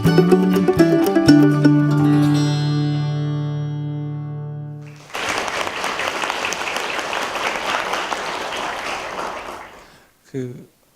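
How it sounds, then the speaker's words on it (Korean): Audience applause welcomes a professor speaker at a health talk concert, a full burst of clapping breaking in after sustained musical tones and tapering off, with a brief final flourish. "따뜻한 박수로 환영해 주시기 바랍니다"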